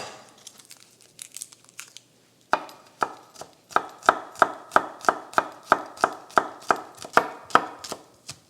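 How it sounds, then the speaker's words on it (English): Garlic cloves minced with a knife on a cutting board: after a few soft taps and a brief pause come steady, evenly spaced chops, about two per second, close and crisp, with no talking. "And we're just going to mince them up."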